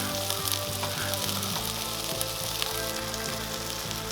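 Chicken wings sizzle steadily on a Chefman indoor smokeless grill, a loud, continuous close-up frying hiss with an underlying low electrical hum and no talking.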